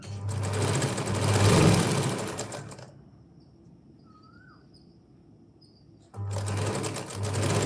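A sewing machine stitches a long frock in rapid, whirring bursts, running for a few seconds, pausing into near quiet with faint background chirps, then starting up again close and loud.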